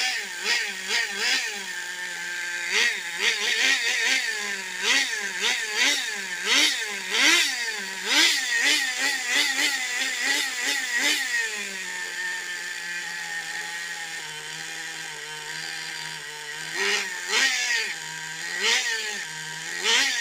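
Small Redcat SH18 nitro engine in an RC model car runs loud and close, revving up and down in repeated bursts, then settling into a steady idle before revving again.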